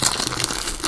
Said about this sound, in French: Le plastique est très dur à enlever même.